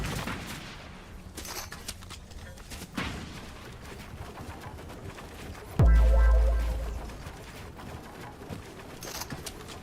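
Gunfire from an enemy player in a shooter video game, bursts of rapid distant shots and a heavy deep boom partway through, with game ambience and no talking.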